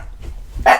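A dog gives one short, sharp bark near the end after a moment of faint low rustling.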